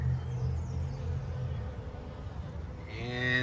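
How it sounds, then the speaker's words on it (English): Honeybees fanning at a hive entrance after a swarm produce a continuous low buzzing drone, steady and close, with a brief higher whine near the end. "Well, I finally got some bees fanning"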